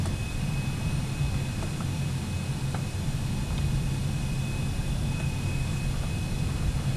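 The jet engines of a Cessna Citation X-750 taxi in a flight simulator, giving a steady, unbroken roar and whine that hold at an even level throughout, with no voices.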